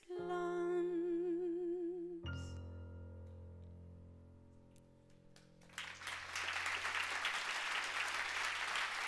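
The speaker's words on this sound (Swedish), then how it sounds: "Stor applåd." After a final sustained sung and instrumental chord fades at a song concert, the audience breaks into broad, steady applause that swells and fills the room.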